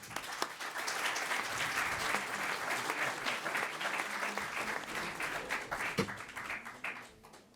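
An audience at a conference session applauds a departing panel, a steady wash of clapping that carries on at a moderate level for several seconds.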